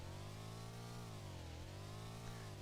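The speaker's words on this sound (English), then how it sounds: "Now the engine has the chintziest little noise. It sounds like it's a 125cc engine." A small car engine in a factory-building video game, a thin steady buzzing drone like a 125cc motor, held at a constant pitch with a slight dip midway, faint and alone.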